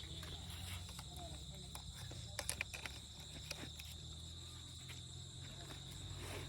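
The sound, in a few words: many insects flying around at night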